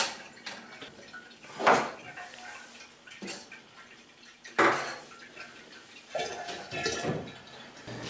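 A pot filling with water for home-brewed beer, a running splash and trickle with clanks and knocks of metal cookware at close range, and a voice speaking briefly over it.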